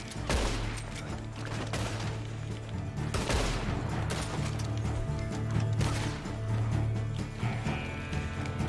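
Shotgun fire in an online shootout in Red Dead Redemption II, with several loud, close blasts and impacts scattered over a steady background hum, including a sharp cluster of shots near the start and middle.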